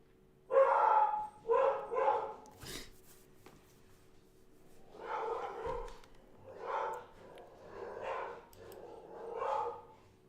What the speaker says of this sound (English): the dog, man, he's been going crazy all morning